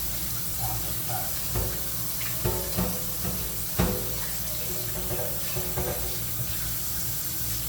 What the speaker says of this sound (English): Water supposed to be hot and come out warm.